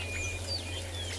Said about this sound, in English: Beautiful sound of the bird in the background as well